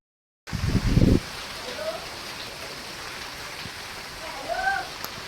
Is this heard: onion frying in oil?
no